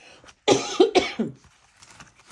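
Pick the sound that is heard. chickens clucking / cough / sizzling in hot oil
cough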